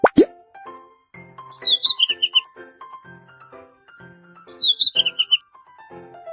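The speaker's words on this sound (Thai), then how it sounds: "ลูกนก" A baby bird chirping in a children's cartoon game, repeated bursts of high cheeping tweets after a soft plop, with light musical tones beneath.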